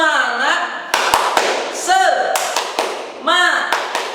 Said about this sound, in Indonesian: sekali lagi yang lebih keras, oke? Siap? Tepuk semangat.